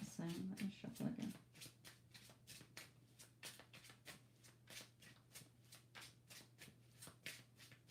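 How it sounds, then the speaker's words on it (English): Tarot cards are shuffled by hand in a quick, rhythmic series of soft riffling slaps, each one a short burst. A voice is heard briefly at the start, with a low steady hum in the background. "Let me shuffle again."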